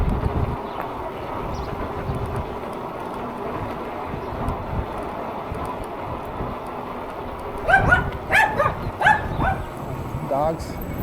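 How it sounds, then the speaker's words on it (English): Dogs bark in a short burst of several sharp yips, heard over steady road noise and wind during an eBike ride through Santa Ana; someone talks nearby. "Dogs."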